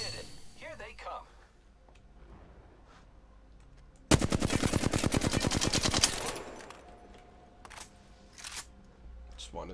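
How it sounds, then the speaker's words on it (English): A rapid burst of automatic gunfire aimed at the dropship in Apex Legends, loud and sustained for about two seconds, with quieter game sounds and brief speech-like bits before and after. "Just wanted to shoot the dropship."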